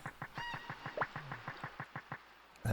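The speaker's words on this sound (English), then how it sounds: "That goddamn bird." Bird call in the Digimon World 3 video game: a rapid run of evenly spaced clucking, quacking notes lasting a few seconds, ending in a louder burst.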